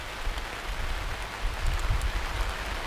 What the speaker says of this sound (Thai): บรรยากาศฝนตกนะครับ